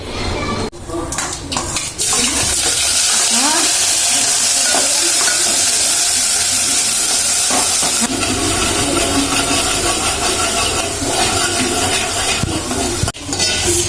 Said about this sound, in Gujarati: હવે આને વઘારવાની છે એટલે વઘારેલી ખીચડી બનાવશું